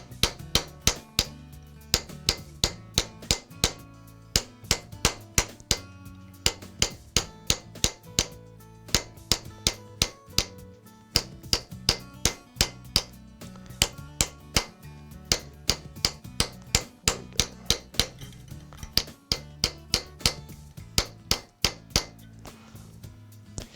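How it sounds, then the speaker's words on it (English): Steady, ringing hammer blows strike a metal bracelet shaped over a curved Series 100m stake, each sharp metallic clang close and distinct, falling in a fairly regular rhythm with brief pauses throughout, working the lumps smooth on a concave bracelet. "we're going to go back and work those down so the piece is as smooth as we can make it with this hammer"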